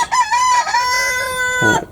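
Hens in a hen house cluck and call in drawn-out, wavering tones, loud and close, with a short burst of clucking at the end and no talking.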